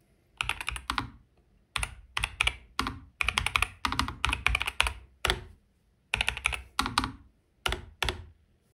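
Rapid typing on a mechanical computer keyboard, close and crisp, coming in bursts of clicky keystrokes separated by short pauses.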